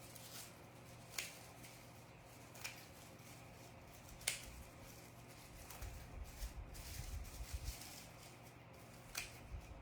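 Scissors snip a Dollar Tree garland in a series of sharp, close cuts spaced a second or two apart, quiet against a faint steady hum, with soft rustling of the garland strands between snips.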